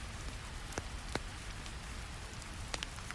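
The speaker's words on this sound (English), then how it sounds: "The brown noise of falling rain grows softer." Steady soft rain falls on a surface as a continuous gentle hiss, with a few sharper drips standing out, quiet and unbroken with no voices.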